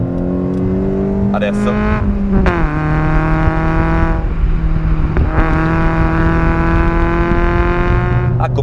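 A Citroen Saxo VTS 16v engine revs high and loud, its pitch climbing and dropping through several sweeping pulls, with someone speaking briefly over it.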